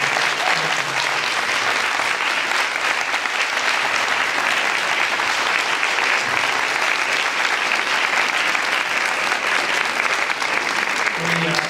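Educators and guests at an evening ceremony held by an HSS group in Plano-Frisco applaud together, loud, dense and continuous clapping that fills the room for the whole stretch without pause.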